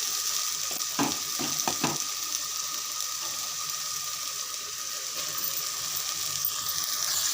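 Chicken pieces sizzle and fry in ginger garlic paste in a pan, a steady close crackling hiss throughout with a few clattering stirs near the start.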